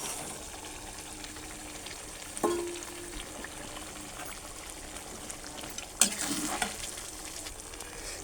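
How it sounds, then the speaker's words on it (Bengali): Meat sautéing in a pan with peas and capsicum gives a steady sizzle and fry, with stirring scrapes and a couple of louder clatters of the spoon against the pan, close and clear with no talk. "মাংস থেকে যা জল বেরিয়েছে সেটা ভালোভাবে একটু কষে নিই।"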